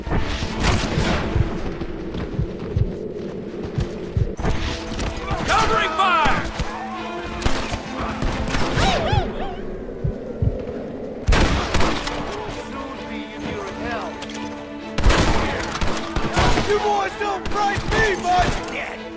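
Gunfire in a Western shootout in Red Dead Redemption: repeated sharp shots and bursts crackling through a busy, loud game soundscape, with someone shouting over the firing.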